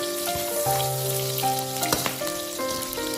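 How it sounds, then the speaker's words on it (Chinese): Pork belly stir-fries in a wok over medium-low heat as its fat renders out, giving a steady, close crackling sizzle with background music running underneath. "开中小火给它慢慢的煸炒， 将五花肉里面的油脂煸炒出来"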